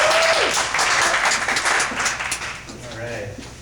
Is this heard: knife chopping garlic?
no